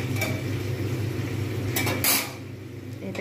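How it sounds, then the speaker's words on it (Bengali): A lid set down on a cooking pot of stuffed pointed gourd with tomatoes and onions, a short clattering metal clink near two seconds over a steady low kitchen hum. "এটাই আমি ঢাকা দিয়ে দেবো।"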